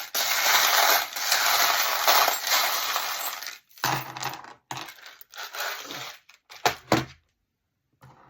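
Divination charms are shaken and tossed: a sustained metallic jingling rattle for several seconds, then a string of short clinks and clattering drops separated by quiet gaps, close and fairly soft.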